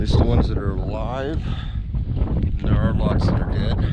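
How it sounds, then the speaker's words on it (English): Gusty wind buffets the microphone with low rumbling on a cold, exposed height at The Wedge, Utah, while a person talks over it outdoors. "Sorry about the wind, but it is blowing up here and it's very cold."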